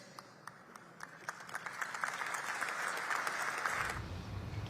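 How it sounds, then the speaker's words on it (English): Guests at a gala dinner give hesitant applause: a few scattered, sharp claps at first, then a broader round of clapping that swells gradually and stops abruptly, heard from within the room. "you can hear the slightly reluctant applause from that"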